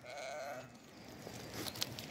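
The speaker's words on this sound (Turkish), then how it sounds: "gördüğünüz gibi koyunlarımızı ve kuzularımızı şu an yaylaya götüreceğiz" Sheep and lambs bleat faintly in the distance while being driven to a highland pasture, a few wavering calls over soft outdoor background noise.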